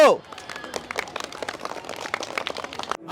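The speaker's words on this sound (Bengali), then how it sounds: "সবাই হাততালি দিব" Children clap together at a school magazine-programme event, a quick, busy patter of hand claps that goes on steadily for a few seconds, with voices mixed in.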